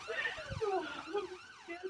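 Wailing ambulance siren sweeping up and down in repeated cycles, fairly close and clear, lasting a couple of seconds with no voices over it.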